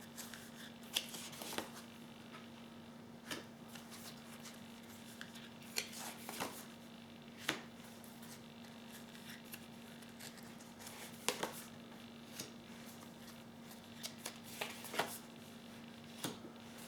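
Tarot cards being shuffled and handled, a series of soft, brief riffling snaps and slides at irregular intervals over a low steady hum, with no talking.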